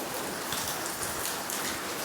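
Rain falls steadily during a storm with strong wind, an even, dense hiss of drops hitting surfaces close by without a break.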